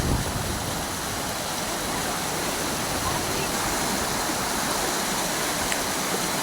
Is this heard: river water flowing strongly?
yes